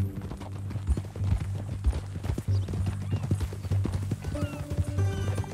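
Horse hooves clip-clop in a steady walking rhythm in the Western video game Red Dead Redemption 2, close and fairly quiet, with a brief whinny-like note and faint speech in the background.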